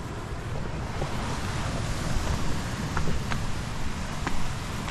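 Waves wash steadily onto Kaul Igan beach in Kampung Igan, Mukah, Sarawak, while wind buffets the microphone in a continuous rushing roar.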